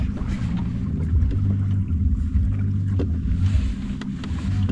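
Sixty-year-old Omega cabin sailboat under way, pushing into waves that slow it, with a steady low rush of water against the hull and wind buffeting the microphone throughout.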